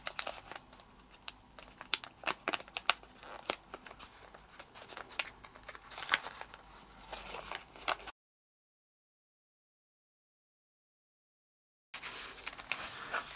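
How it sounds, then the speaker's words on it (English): Paper being folded and creased into an origami panther face, a close run of crinkling and crisp rustling taps, quiet and alone, then a few seconds of dead silence before the soft paper handling returns. "And fold this corner behind to taste."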